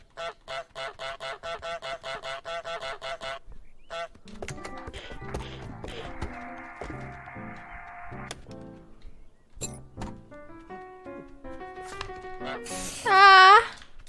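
Honks from the goose in Untitled Goose Game sound in several short, nasal bursts amid game sound effects, rapid clicking and bright musical tones, with a louder honk near the end.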